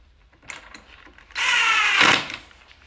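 A power drill drives a screw into a wooden craft table: a few light clicks, then one loud, steady whir lasting about a second before it winds down.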